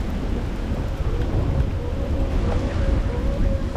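Thunder rumbles through a storm along the Katy Trail, a loud, continuous low roll layered with steady heavy rain that lasts the whole moment.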